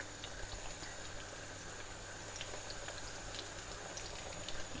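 A batch of salt and pepper prawns deep frying in hot oil, a continuous low bubbling hiss with scattered tiny crackles, quiet and steady with no voices.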